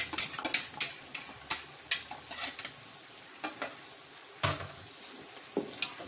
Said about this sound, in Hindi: मसाला अच्छी तरह भून गया, और इसमें हम डालेंगे ये मैंने फेंट लिया था दही